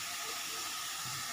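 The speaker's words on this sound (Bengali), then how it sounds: "পেঁয়াজটা দিয়ে দিয়েছি, ভাজা ভাজা হচ্ছে।" Onion paste frying in a pan gives off a faint, steady sizzling hiss throughout the short stretch, with no talking.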